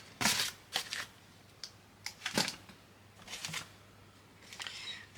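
Rustling and crinkling of parcel packaging as a box is unpacked, in several separate bursts of crackly handling with quiet pauses between, close by and moderately loud.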